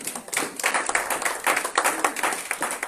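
A church congregation at a Sunday worship service claps together in quick, steady rhythmic bursts, loud and close-sounding with a lively ensemble feel and no talk over it.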